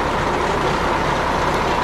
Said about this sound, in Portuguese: E tá vindo um caminhão na nossa direção.